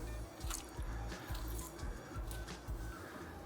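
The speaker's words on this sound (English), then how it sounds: "I want to go in with a little more lime juice here" Lime juice dripping and splashing onto chicken pieces for Trinidadian stew chicken, a series of small wet drips and squishes close by, fairly quiet and steady.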